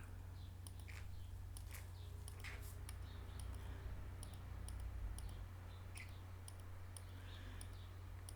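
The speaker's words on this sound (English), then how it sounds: "I'll very quickly click around him to select him" Computer mouse clicking while selecting around a person in a photo, a series of faint irregular sharp clicks over a low steady hum.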